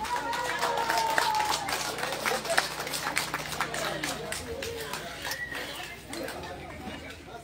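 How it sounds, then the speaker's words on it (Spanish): Applause and cheering at a birthday party with live band music, scattered clapping over crowd chatter and background voices, fairly distant and mixed with talk throughout. "Y es un aplauso para la festejada"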